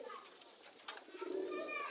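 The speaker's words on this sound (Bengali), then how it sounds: "আরো কবুতর আছে উপরে" Pigeons cooing at a house with more birds perched up above, soft low coos heard close by and mixed with a voice talking.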